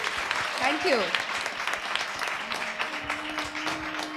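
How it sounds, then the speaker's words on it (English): Audience applause for child performers of Indian classical music at a student and teacher concert, a steady wash of clapping throughout with a brief spoken thanks and a held tonal drone near the end. "So first a round of applause for my little stars."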